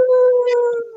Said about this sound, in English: look, it's a Siberian Husky.